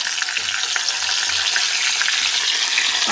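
Curry leaves crackle and fry in hot oil, a dense, steady sizzle that stays loud and continuous throughout, with no voices.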